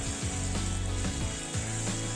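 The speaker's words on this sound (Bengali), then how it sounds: "তারপর আলুগুলোকে দিয়ে দিলাম ভাজার জন্য" Steady, loud hiss of potatoes frying in hot mustard oil with five-spice and dried chillies, with a few dull low knocks from the pan underneath.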